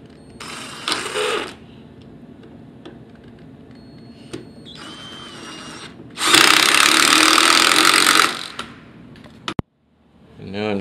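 A power drill drives screws to join wooden parts during a bathroom floor lift, with a short whir early, scattered clicks and knocks, then a long loud drilling burst and a sharp knock near the end.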